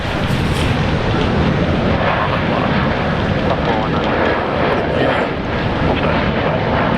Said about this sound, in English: How good is this classic 737?